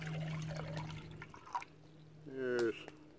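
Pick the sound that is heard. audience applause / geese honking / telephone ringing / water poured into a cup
water poured into a cup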